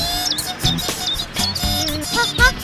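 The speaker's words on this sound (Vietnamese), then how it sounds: "sao còi xe mình lại phát ra tiếng chim kêu vậy ta?" A car horn in a 3D cartoon that sounds like birds, bright chirping and tweeting calls in quick rising and falling runs, loud and close, over a low musical background.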